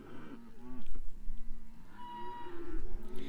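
Cattle on a working farm with young calves, lowing and mooing in several drawn-out calls over a steady low background, moderately close, with no talk.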